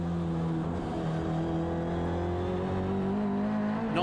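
A BMW race car pulls out of the final corner at Port Elizabeth in a GT championship round, its engine note rising steadily under smooth throttle, loud and continuous from onboard.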